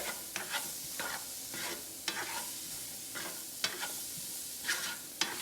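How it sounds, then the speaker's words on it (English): Vegetables sauté in a pan for salmon teriyaki pineapple bowls, a soft steady sizzle punctuated by repeated scraping stirs and sharp clicks of a utensil against the pan, close and alone. "Okay, we're gonna let that sizzle."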